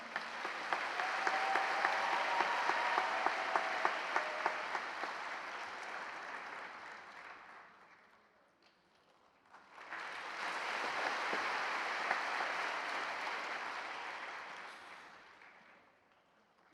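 Congregation applause at a church business-people's dedication service, honouring award-winning mission societies: a sustained wash of clapping that swells, fades out near the middle, then rises again into a second long round.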